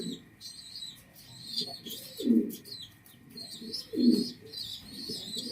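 A breeding pair of pigeons coos in two low, throaty bursts spaced about two seconds apart, with lighter chirps from other birds throughout.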